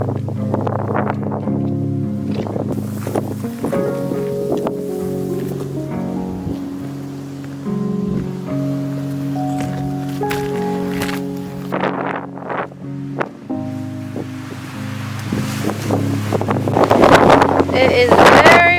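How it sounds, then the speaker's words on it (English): Strong wind gusts across a mountain trail in the outback, roaring and buffeting directly on the microphone in a continuous rumble, with brief higher whistling moments and rising intensity near the end. "It is very windy up here."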